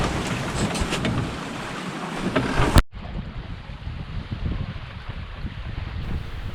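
Sailboat under way at about 4.5 knots in steady wind over fairly small seas, with continuous rushing wind and water noise buffeting the microphone throughout.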